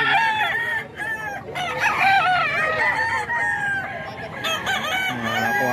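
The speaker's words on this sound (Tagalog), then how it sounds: "Ayan natin yung mga dala niyang manok." Roosters crow repeatedly while chickens cluck all around, a dense, close chorus of fowl at a gamefowl farm on Mt. Banahaw, continuous and loud.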